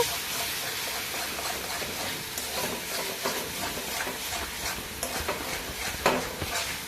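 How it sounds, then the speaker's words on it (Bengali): Taro greens being stirred in oil in a pan, a steady soft sizzle with scraping spatula strokes throughout, faint and close with no talk. "এইভাবে শাকটাকে নেড়ে নিচ্ছি খুব ভালো করে"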